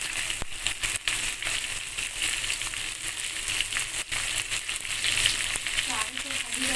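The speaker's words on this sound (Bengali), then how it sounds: "এদিকে মাছগুলো ভেজে নেওয়া হচ্ছে।" Rohu fish frying in hot mustard oil in a wok, a steady close sizzle with scattered crackles running throughout, with no talk over it.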